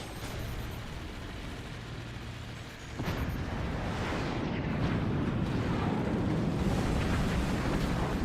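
Howitzer artillery fire in a multiplayer strategy game, heard as a dense, continuous rumble of booming impacts and explosions that thickens partway through and stays loud to the end.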